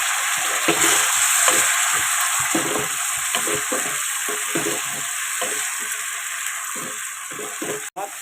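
Ground spice paste frying in a hot pan, a loud continuous sizzle broken by a steady rhythm of spatula scrapes and stirring strokes throughout.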